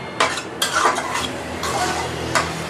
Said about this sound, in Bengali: এখন ভালো করে নাড়াচাড়া দিয়ে নিব